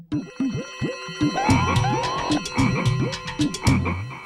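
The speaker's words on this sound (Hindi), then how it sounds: "मयूरी पहले मुझे मेढक की खबर लेने दो" Frogs croak in repeated, rhythmic bursts, loud and close, some calls overlapping in quick succession with a bright ringing quality.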